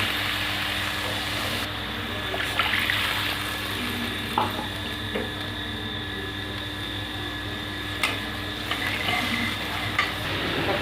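Water poured into a pan of oil-released fried spice paste for a papaya curry, giving a continuous loud sizzle and bubbling with a few sharp stirring knocks, close up and without speech.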